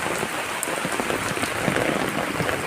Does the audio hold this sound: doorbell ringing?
no